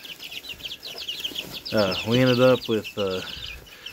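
Young feathered chicks, both hens and roosters, clucking and peeping nearby in a short burst of calls while a person talks over them.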